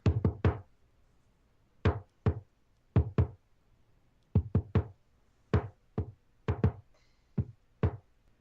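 Sharp knocks on the door of a small dwelling, rapped in quick groups of two or three with short pauses between, close and clear against a quiet background.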